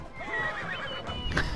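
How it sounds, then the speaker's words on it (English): A horse in the video game Assassin's Creed Odyssey gives a short, shrill neigh that rises and wavers, heard close over a busy game background with no talk. "Crazy horse in the way."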